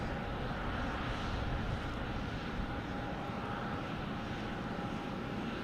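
An Emirates airliner rolls past at Boston Logan Airport, its engines giving a constant, fairly loud rumbling roar with a faint steady whine, heard alone without speech.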